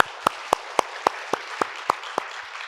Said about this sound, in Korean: 우리 찬양팀에게 뜨거운 박수로 격려 한번 해주시죠